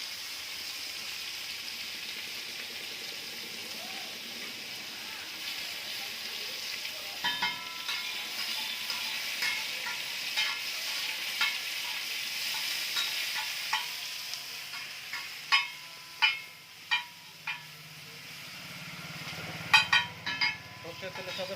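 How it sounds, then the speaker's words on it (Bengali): Chopped raw onion goes into hot mustard oil in a pan for fish tawa fry and sizzles with a soft, steady hiss, while a spoon stirs and clinks against the pan now and then. "এবারে কাঁচা পেঁয়াজ দিয়ে দেবো এর মধ্যে, যে পেঁয়াজটা চপ করে রেখেছিলাম।"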